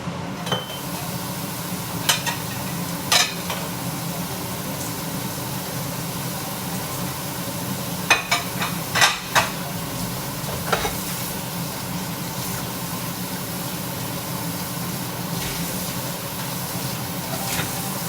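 Garlic shrimp sizzle steadily as they fry in a pan, an even hiss with a few sharp clinks of a utensil against the pan.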